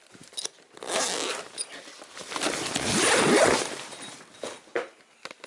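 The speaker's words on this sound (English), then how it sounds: "You can zip it up and it can roll." A zipper on the carry bag of a Blackfin Model X 2020 inflatable paddle board is pulled in a few quick close rasping strokes, with rustling of the bag fabric between them and no talk.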